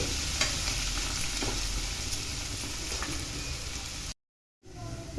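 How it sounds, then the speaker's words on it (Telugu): Chopped onions fry in oil for an okra and egg curry, giving a loud, steady sizzle with occasional stirring scrapes in the pan; the sound breaks off briefly near the end, then resumes. "ఈ ఉల్లిపాయ పచ్చి వాసన పోయి కొంచెం మంచి కలర్ వచ్చే వరకు వేయించుకోవాలి."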